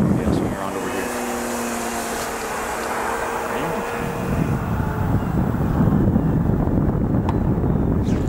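An Extreme Flight Extra 300 radio-controlled model airplane on skis drones overhead, its propeller whine fading and returning while wind buffets the microphone and a person talks nearby.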